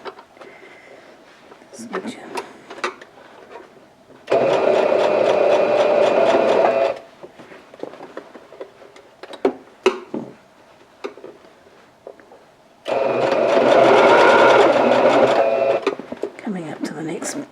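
Sewing machine stitching the corner of a fabric handbag, two bursts of rapid mechanical whirring a few seconds each, close and loud, separated by quiet handling of fabric and pins, with a person talking between.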